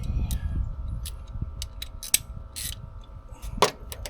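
An adjustable wrench works a 19mm bolt during a lift install on a third-generation Toyota Tacoma, giving scattered metallic clicks and creaks with a couple of sharper ratcheting snaps over low rumbling background noise.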